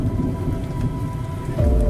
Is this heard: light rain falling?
yes